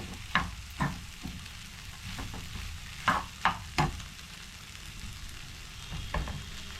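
A vegetable cutlet mixture made with banana flower is stirred in a pan, with a quiet background sizzle broken by several sharp scraping knocks of the spoon against the pan.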